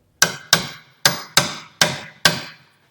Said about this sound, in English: I'm going to use a hammer to kind of